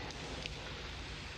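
Rain effect from a 1978 German science-fiction radio drama: a soft, even hiss of falling rain with faint scattered drops, steady for the whole moment and with no voices.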